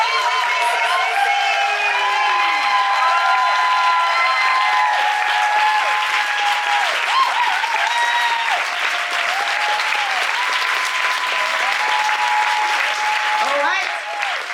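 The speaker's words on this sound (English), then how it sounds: "A big applause for Ann Johnson back on stage with me." A comedy audience in Vienna applauds and cheers as a comedian returns to the stage, loud sustained clapping with whoops and shouts layered over it, continuing for more than ten seconds before easing at the end.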